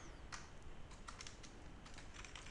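Faint, rapid clicks on a computer keyboard as programming code is typed, in short irregular bursts over a steady background hiss, with no speech.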